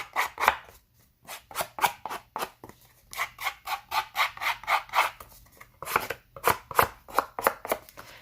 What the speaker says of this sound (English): I'm just using the side of my blade of scissors, and I'm pulling some of that printed